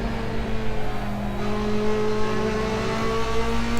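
Race car engine in the racing game Assetto Corsa in wet conditions, a sustained loud mid-pitched drone with smoothly rising revs as the car accelerates, no talk over it.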